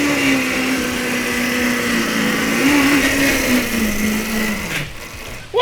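Electric mini trike, a custom show build, whining as it accelerates hard into a power wheelie, a steady rising motor and drivetrain hum that holds close and loud, then cuts off abruptly near the end.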